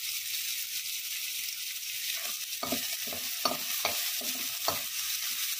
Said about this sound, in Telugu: ఆనియన్స్ కొద్దిగా వేయించుకొని ఇంకా పచ్చిమిర్చి కూడా వేసుకోవాలండి.